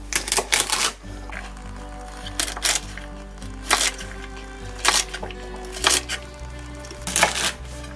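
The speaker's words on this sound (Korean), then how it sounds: "5cm로 잘라 보겠습니다." Knife chopping garlic scapes into 5 cm pieces on a cutting board, sharp irregular clusters of close, crisp cuts separated by short pauses, with a low hum underneath.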